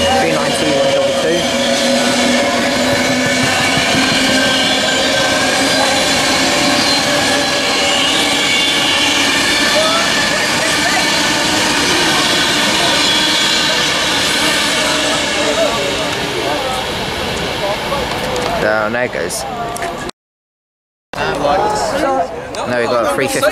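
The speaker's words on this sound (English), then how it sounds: "Well, we got another Pendolino." Pendolino Class 390 electric train passing through Stafford station on the West Coast Main Line, a loud, sustained rushing roar with clattering wheels, fading after about 18 seconds and cut by a short gap of silence, with chatter from people nearby.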